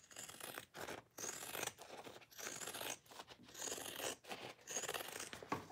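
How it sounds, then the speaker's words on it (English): Pinking shears snipping through fabric for a curved bag seam, a series of crisp crunchy cuts in an irregular rhythm, close and moderately loud with no talking. "I think I'm gonna use some pinking shears on this"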